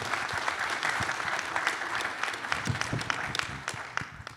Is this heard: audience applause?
yes